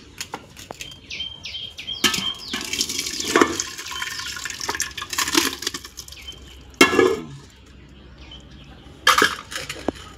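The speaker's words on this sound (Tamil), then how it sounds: "இப்போ இதை வேறு ஒரு குண்டாவில் ஊற்றி கடைஞ்சிக்கலாம்" Cooked dal with tomato and greens is poured from one pot into another and mashed, producing wet sloshing pours, thick squelching and a couple of louder splashy bursts, all close by with no talking.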